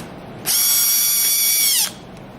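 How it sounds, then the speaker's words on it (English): A screwdriver backs out screws holding a remote bracket to the power panel of a Human Touch ZeroG 3.0 chair, giving one close, steady motorized whir of about a second and a half that stops abruptly, with no talk. "Using that Phillips head screwdriver, remove the 2 screws to secure the remote bracket to the power panel."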